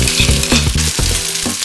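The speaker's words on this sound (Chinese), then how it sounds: "这样油热了之后，就可以加入米饭。" Cooked rice goes into hot oil in a nonstick pan for egg fried rice, giving a loud close sizzle with bursts of stirring and scraping, and no talk.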